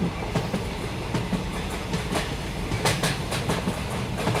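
A train rolls steadily past, its wheels beating out a rhythmic clickety-clack over a continuous rumble of rail noise.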